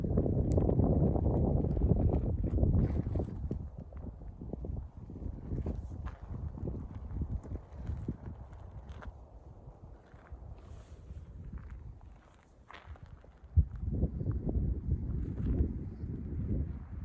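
Wind gusting across a high mountain meadow on a ridge along the Pacific Crest Trail, a loud, rough rumble buffeting the microphone that eases off midway and then surges again.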